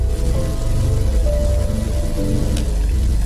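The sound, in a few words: rain falling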